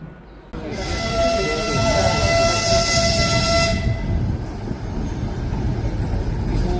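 A train bound for Russia rumbles at Ulaanbaatar station in Mongolia, with a loud hiss of air release in the first few seconds and a sustained low mechanical drone throughout.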